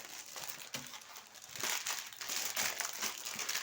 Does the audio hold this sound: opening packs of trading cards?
yes